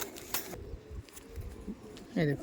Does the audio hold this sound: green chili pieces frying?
no